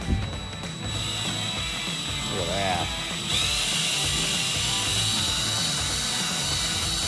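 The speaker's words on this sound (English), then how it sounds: "We'll see what we got here with this uh, old drill." An old power drill whirs loudly and steadily while working on a 1929 Pontiac engine, rising in pitch partway through and then holding a high whine, with a brief spoken remark near the start.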